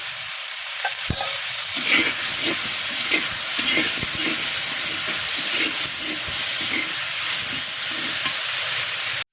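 Garlic sautéing in hot oil in a pan, a steady close sizzle with repeated scraping stirs and a sharp clack near the start, with no talking.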